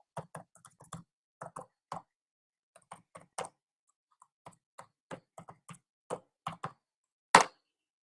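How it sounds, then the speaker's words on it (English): Typing on a computer keyboard in irregular clusters of light, close clicks separated by short pauses, ending with one louder key strike, with no talk. "let me type that in for you."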